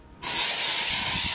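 Odorless aerosol bug spray bursts on abruptly and hisses loudly and continuously at close range after a brief quiet moment.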